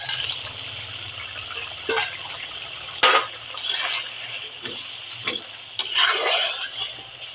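Pieces of puti fish going into mustard paste in a pan for paturi, heard as a few scraping stirs and sharp clinks of utensil against pan over a low background hum, close with no talk.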